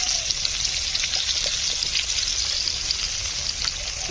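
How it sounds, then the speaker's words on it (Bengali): Fish fries in a pan in a home kitchen, giving a steady, dense sizzle and crackle that stays even and close throughout, with no one talking. "না রে বাবা, আমি মাছ ভাজছি, মাছ পুড়বে কেন?"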